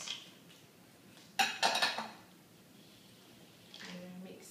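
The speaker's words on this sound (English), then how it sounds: "we're adding in a cup of chocolate chips and a cup of chocolate caramel chunks" Chocolate chips and chocolate caramel chunks pour into a mixing bowl of thick chocolate cookie dough, a short burst of clattering taps near the middle, with quiet room noise around it.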